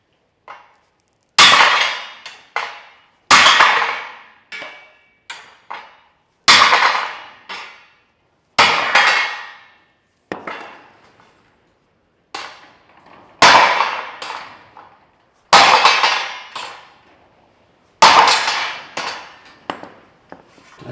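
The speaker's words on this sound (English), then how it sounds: "I'd say the sledgehammer works a whole lot better." An 8-pound sledgehammer pounds a firewood stand build in about ten loud, sharp strikes, sometimes in quick pairs, each ringing briefly before fading, with short gaps of quiet between.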